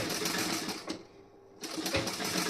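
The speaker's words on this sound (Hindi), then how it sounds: "एकदम किनारे से सिलाई लगा रही हूँ।" A sewing machine stitches close to the edge of a blouse neckline with a steady, close mechanical whir, pausing briefly midway before running again.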